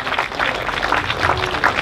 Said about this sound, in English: So let's have a big round of applause for all the kids and bands who performed here today.